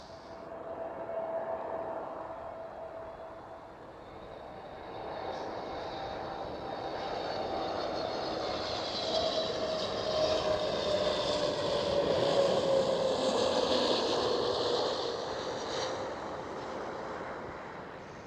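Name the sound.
Transavia Airbus A321neo aircraft at Schiphol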